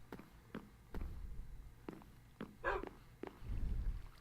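Two pet dogs in a Minecraft survival world give a handful of short, separate barks and yips at irregular intervals, close by, with no one talking.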